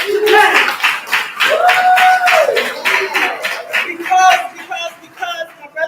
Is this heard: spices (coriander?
no